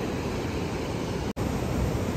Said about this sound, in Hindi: ये देखिए समुंदर का पानी, हाई टाइड जब आती है ना ये पानी फ्लो करके फिर उधर को निकल जाता है।